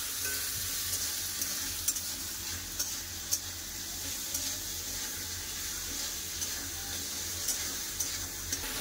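Tomato paste frying in a pan with salt, a steady broadband sizzle running throughout, punctuated by occasional sharp clicks and scrapes of stirring against the pan, close and moderately loud with no voices.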